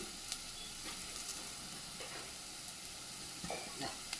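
Turmeric and garam masala stirred in a hot frying pan for egg rice, a faint steady sizzle with a few soft scraping strokes.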